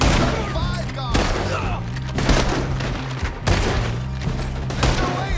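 Gunfire from a shootout in Red Dead Redemption 2, rapid overlapping shots and booming blasts in repeated bursts, loud and close, with voices shouting between the volleys.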